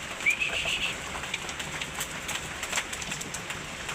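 Racing pigeons coo softly at a loft in rainy weather, low murmuring calls spread through a faint background hiss of rain, with no one speaking.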